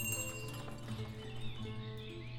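Horse hooves clip-clop in the Ostriv village-building game as horses pull carriages, a steady, fairly close rhythmic clatter over a low ambient hum.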